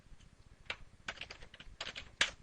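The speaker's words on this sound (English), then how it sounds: "I'm going to type in match DSCP" Someone types on a computer keyboard, entering commands while configuring a network router. Keystrokes come as a quiet, irregular series of close clicks and taps, some in short quick bursts, with no talking.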